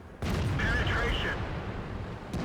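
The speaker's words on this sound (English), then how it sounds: "Both players put a shot into the M103." Tank cannon fire in World of Tanks slams into an M103, a booming blast with a rumbling tail, loud and dense, under a voice talking.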